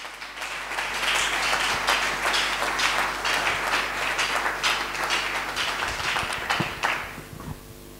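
Congregation applauding at a church service, a dense, steady wash of many hands clapping that fills the whole stretch and fades slightly near the end, with faint low murmuring underneath.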